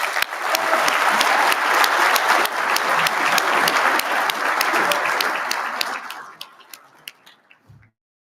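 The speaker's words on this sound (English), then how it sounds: "Please join me in a round of applause." Loud, sustained applause from an awards dinner audience for an award recipient, a thick wash of clapping that holds steady, then thins to a few last claps and fades out.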